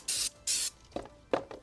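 Two short, loud hissing bursts of cleaner sprayed onto a Paslode IM350+ nail gun, followed by a couple of quieter rubbing or knocking sounds close by.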